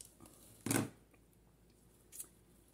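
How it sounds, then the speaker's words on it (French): Two quick snips of large scissors, one louder crisp cut followed by a softer second one a moment later, in an otherwise quiet room. "les grands ciseaux."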